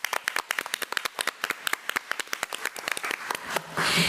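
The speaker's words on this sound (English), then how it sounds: "Let's give him a round of applause" An audience at a school board meeting claps in a brisk, steady burst of applause that carries on for about four seconds, with a brief swell of noise at the end.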